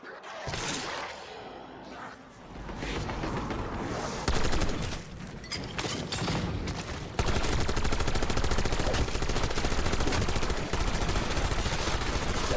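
Dense, continuous automatic gunfire and explosions in the Black Ops 6 Zombies video game, loud and sustained throughout, growing even denser and harsher in the second half.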